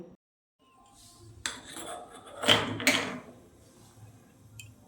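A wok set down on a lit gas stove, a few close metallic clunks and scrapes against the burner grate, then quiet.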